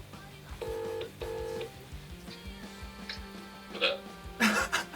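Phone dialing tones: several clear electronic beeps, two steady ones first and then shorter tones, with background noise and a brief burst of sound near the end.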